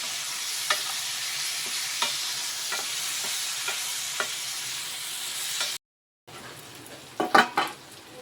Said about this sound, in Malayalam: നീളത്തിൽ അരിഞ്ഞു വെച്ച വഴുതനങ്ങ ഇട്ട് കൊടുക്കാം. വഴുതനങ്ങ കൂടി നമുക്കൊന്ന് നല്ലോണം വഴറ്റി